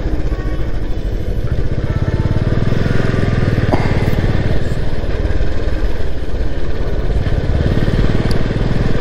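A motorcycle engine drones steadily and loudly while riding on a mix of good roads and off-road hill tracks near Chandsili Ghat, with continuous close rumble and clatter.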